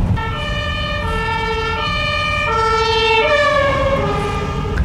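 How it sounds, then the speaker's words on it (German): Ambulance siren on a German road in a traffic jam, loud and close, its wailing two-tone pattern cycling steadily and rising as it comes up from behind, heard from inside an electric car with no talk. "Oh, hinter mir kommt auch schon ein Rettungswagen,"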